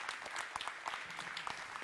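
A crowd applauds at an alumni reception and dinner, steady dense clapping with a few sharper individual claps standing out, moderately distant and continuous throughout.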